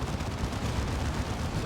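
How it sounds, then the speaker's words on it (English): Dense, continuous cannon and gunfire from a Dawn of War 2 Retribution battle, with a tank under fire from double side cannons, forming a loud, steady wash of blasts with no separate shots standing out. "This Predator tank is getting absolutely roasted by these double side cannons."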